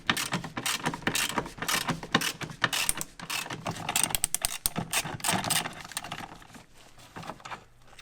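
A ratchet wrench works on a nut on a 2nd-row seat bracket of a Dodge Grand Caravan / Chrysler Town & Country minivan, giving quick, close, continuous clicking strokes with short pauses.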